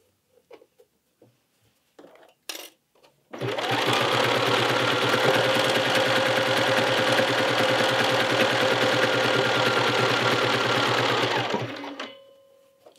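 A sewing machine stitches the fabric of a Hemlock garment in one sustained, loud, close run of about eight seconds, preceded by a few light handling taps, with no speech.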